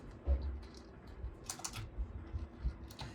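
Keystrokes on a computer keyboard while an SQL query is typed, heard as soft, irregular clicks at close range over a low steady background hum, with no one speaking.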